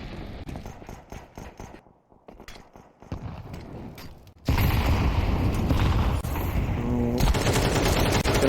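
Pistol fire during a professional Counter-Strike match on the Vertigo map at IEM Sydney 2023: rapid, sharp shots crackle in quick succession, followed by a dense, loud wash of in-game gunfire and effects.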